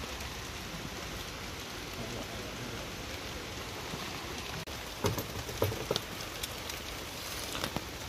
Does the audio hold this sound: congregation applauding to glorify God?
no